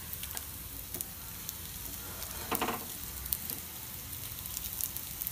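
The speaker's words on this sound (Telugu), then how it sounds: "ఇప్పుడు రెండో వైపు కూడా కాల్చుకుందాం" Bread dahi vada frying in oil in a pan on a low flame gives a steady, soft sizzle with scattered crackles and pops, plus one louder burst of spattering partway through.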